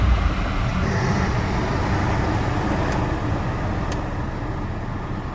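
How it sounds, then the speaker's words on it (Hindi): Air conditioning blower fan of a 2019 Nissan Sunny running at full speed inside the car, a steady, even broadband whoosh that holds constant without talk. "और ये अब इसका AC ऑन करते हैं, तो देख सकते हैं अब फुल चल रहा है।"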